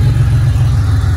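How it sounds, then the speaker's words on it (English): A 1982 Porsche 911SC engine idles steadily close by, warmed up, with a low, even rumble and no voices. "Once it warms up, it idles fine."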